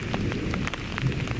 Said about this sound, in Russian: А дождь начался. Ё-моё. Офигеть. Вообще как льет.